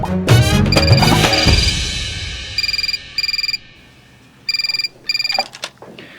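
A telephone rings in two short bursts of trilling electronic tones, followed by another pair of bursts after a pause, over faint background sound, at a women's police station.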